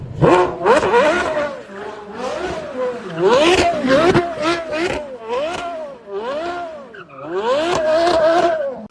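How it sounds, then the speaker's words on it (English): A loud, high-revving Porsche Carrera GT engine howls and swoops through rising and falling pitch, with rapid throttle blips and gear changes, close up. "this is probably Porsche's best sounding car ever"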